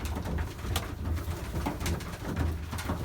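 Pigeons in a loft coo softly in repeated low, throaty pulses, several birds overlapping at close range with a few sharper flutters or taps, moderately quiet.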